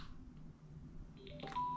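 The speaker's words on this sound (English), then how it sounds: "It says hello when you turn it on and goodbye every time you turn it off." Bluetooth communicator headset for dirt bike riding giving its power-on voice prompt, a short chime of tones ending in a clear high beep, fairly quiet over faint background hum.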